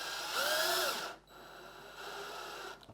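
Power drill spinning briefly while driving screws into a Cessna 172 lower panel assembly, a short faint whine that rises and falls, followed by a quieter steady hum, close with no talk.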